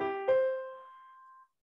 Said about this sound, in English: Now I'm going to push the una corda pedal down.